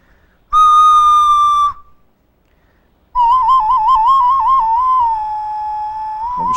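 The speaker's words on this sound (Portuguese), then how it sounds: "Isso é uma ocarina." An ocarina sounds a clear, pure steady note, falls silent, then returns with a wavering, trilled note held for several seconds.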